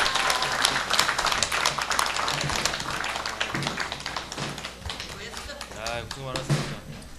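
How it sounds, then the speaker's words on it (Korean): A church congregation claps steadily for several seconds, a dense burst of applause that gradually thins out, with a voice talking over it near the end. "고생 많은 우리 고3들 친구들한테 박수 주시면 감사하겠습니다"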